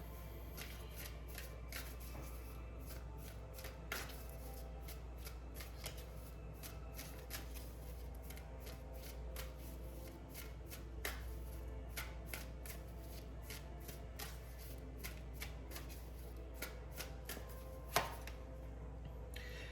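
Tarot cards are shuffled over and over in quick, crisp riffling bursts, close up, with soft card taps and a faint low background hum, no talking.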